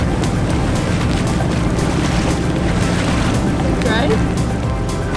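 A sailboat motoring across a lake in the Panama Canal on a wet, grey day, its engine droning loud and constant under heavy wind noise for the whole stretch.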